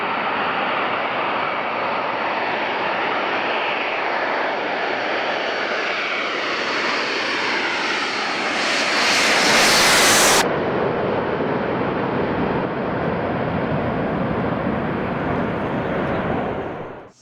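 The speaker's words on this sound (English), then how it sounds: "The arrival of a giant C-17 from Seward Air National Guard Base in New York State was a pleasant surprise" A giant Boeing C-17 military transport from a New York Air National Guard base arrives in Alaska, its engines a loud, steady broadband roar that swells to a peak midway and then holds as the aircraft passes close by.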